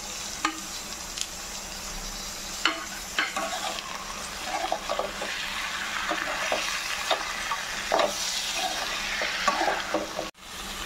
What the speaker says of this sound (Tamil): இப்போது இது எல்லாத்தையும் கொஞ்சம் நல்லா வதக்கலாம்.